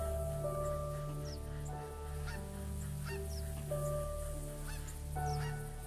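Several geese in a field honk back and forth in theHunter: Call of the Wild, faint scattered calls over a steady low game ambience drone, some honks closer and clearer than others.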